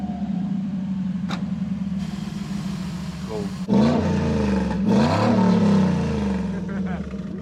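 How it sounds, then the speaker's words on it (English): A deep Lexus V8 engine, fitted in an old Bedford, idles and then revs in loud bursts around the middle, rumbling steadily underneath with a few rising and falling swells. "this old Bedford's got a modern Lexus V8 in it."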